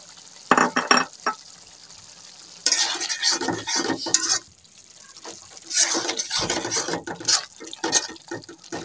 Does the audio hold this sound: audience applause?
no